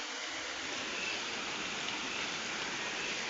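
The flooded Aghanashini river rushes past in heavy, rising flow during monsoon rain in the Malnad hills, a steady broadband roar of water that fills the whole stretch without a break, close and loud.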